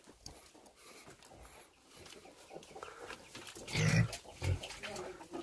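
Pigs in a rural Vietnamese household pen give a few low grunts midway through, moderately near, over a busy background of farm noise and rustling.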